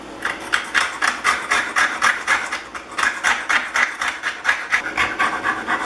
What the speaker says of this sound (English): So this about finishes up what I can do with the scraper on the front side.